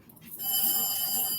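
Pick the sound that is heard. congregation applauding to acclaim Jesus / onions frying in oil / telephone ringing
telephone ringing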